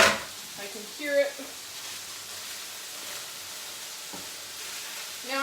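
Ground meat sizzling in a 10-inch non-stick pan while being stirred, a steady close frying hiss with a few scraping stir sounds and faint voice fragments in the background.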